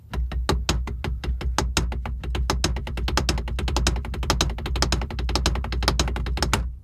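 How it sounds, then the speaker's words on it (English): Snare drum six-stroke roll moved to a displaced position, played from slow to fast as a dense run of crisp strokes that tightens in spacing, with a low rumble underneath. "The next thing is to take the six-stroke roll and move it into a different position."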